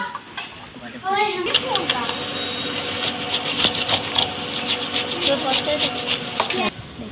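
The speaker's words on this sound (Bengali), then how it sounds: "এবার আমগুলোকে আমরা গ্রেট করে নেব।" Raw mangoes are grated for a Bengali spiced mango mash, giving rapid, rhythmic scraping strokes close by over steady background music.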